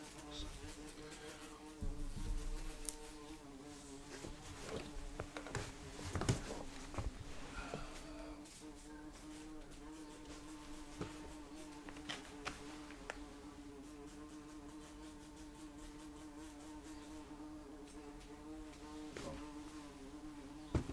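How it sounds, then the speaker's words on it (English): A large bee buzzes steadily indoors for the whole stretch, a close, continuous drone with sharper bursts as it moves around near the listener. "Let me see if I can help this bee outside."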